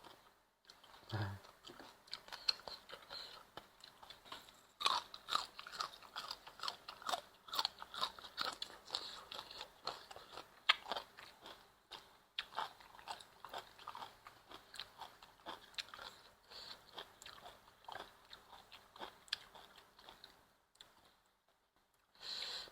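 Spicy Thai papaya salad with fresh shrimp and field crab is eaten up close, with steady wet crunching and biting bites in an irregular rhythm that go on for about twenty seconds, fairly quiet and with no talking.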